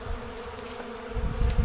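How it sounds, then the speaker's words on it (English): Honeybees mass at the front of a hive while foragers are out, making a steady, soft buzzing hum that stays low and continuous, alone without talk. "there are literally hundreds or thousands of bees out front of the hive"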